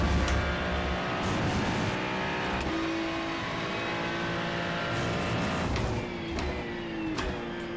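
Race cars lapping Mugello in the iRacing sim, a loud continuous engine whine with gear-shift pitch drops and sharp transients near the end, no talk.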